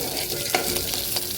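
Curry leaves and garlic fry in a pan while being stirred, a soft continuous sizzle broken by a couple of brief scraping stir strokes, quiet and close.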